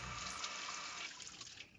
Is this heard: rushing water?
yes